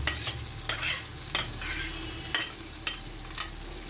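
Fish roe bhujia frying in a pan with oil, a steady sizzle broken by repeated sharp scraping stirs at irregular intervals, close and moderately loud, no voices.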